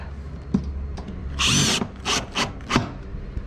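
A power drill drives screws to fix a roman-style bracket on guttering, giving several short whirring bursts close by, the longest in the middle, separated by brief pauses.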